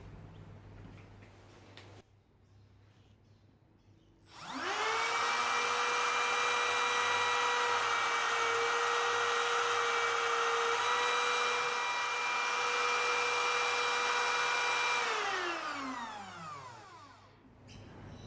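A cordless router with its largest straight bit, mounted in a router table insert plate, spins up from quiet to a loud, steady high whine, holds for about ten seconds, then winds down with a falling pitch.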